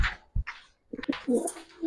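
A female pigeon gives a few short, close cooing calls in quick broken bursts, soft and brief, with no talking over them.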